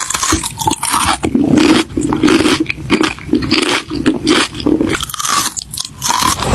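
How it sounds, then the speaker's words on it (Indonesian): Crunchy chips being chewed loudly and close up, a rapid run of crisp bites and crunches continuing throughout with no talk. "Padahal yang kriuk-kriuk Cherry lagi makan keripik."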